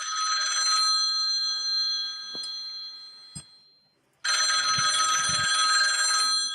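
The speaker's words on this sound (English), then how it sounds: "Answer your phone, Brett." A telephone-style bell, apparently an alarm clock, rings loud and steady, then drops briefly into near silence and resumes ringing at full strength.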